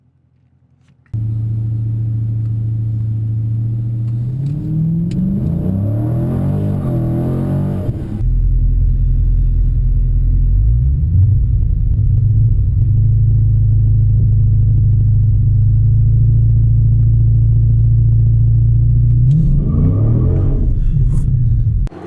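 A 2019 Dodge Challenger R/T Scat Pack 1320 idles with a deep, loud rumble, revs up hard for a few seconds, then settles into a steady heavy drone before revving again near the end; no talk.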